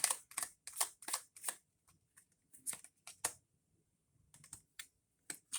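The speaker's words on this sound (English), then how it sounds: "I always shuffle my cards after reading" Tarot cards being shuffled by hand nearby, in quick crisp riffling bursts separated by short pauses, with no talking.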